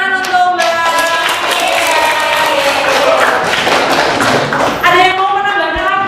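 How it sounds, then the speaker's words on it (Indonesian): Steady applause fills a classroom at a school presentation on eco-enzyme, a dense burst of clapping lasting several seconds before fading, with voices heard at the start and end. "Tepuk tangan untuk Mbak."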